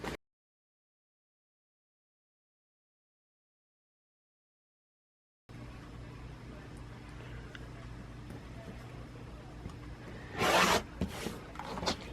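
Quilt fabric being cut on a cutting mat, heard as a steady close rubbing scrape after a silent stretch, with a brief louder cutting burst near the end.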